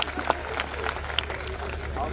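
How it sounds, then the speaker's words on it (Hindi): An audience at a Hindi poetry recital claps, a dense patter of many hands with crowd murmur mixed in, steady throughout the short stretch. "एक बार आप तालियां बजा दें"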